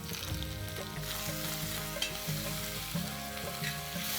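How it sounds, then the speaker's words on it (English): Almonds, cashews, garlic and ginger fry for curry in a pan, giving a close, steady sizzle with light stirring and scraping throughout. "going to throw in some almonds and cashew nuts, about 10 almonds and 10 cashew nuts, and quickly just fry them"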